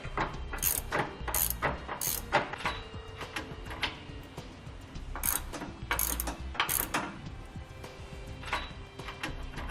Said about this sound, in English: So we'll remove those two bolts with a 21mm wrench.